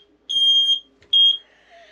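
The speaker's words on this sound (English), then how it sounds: "That's the alarm." Two loud, piercing electronic beeps from a smoke alarm at a campsite, evenly spaced, close by and otherwise quiet.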